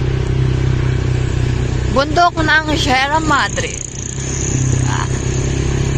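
A motorcycle fitted with dual exhaust pipes rumbles at a steady low idle on a ride toward the Sierra Madre mountains, its engine drone continuous while a voice speaks briefly over it.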